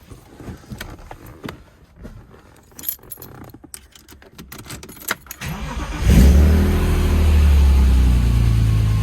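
Keys jangle and rustle near a BMW S50B32 engine in a convertible, then the engine cranks and catches at about six seconds and runs loud, steady and close.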